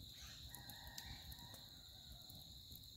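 A red junglefowl crowing faintly in the distance during an early winter morning, a few soft calls over quiet background hiss.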